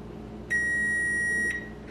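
A kitchen timer gives one steady, clear electronic beep lasting about a second, heard alone over a faint background hum while baking.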